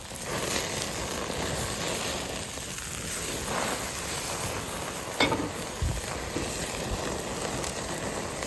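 Steak searing in a hot pan, a steady broadband sizzle that runs continuously throughout, close and moderately loud, with a couple of brief clicks or knocks partway through and no talking.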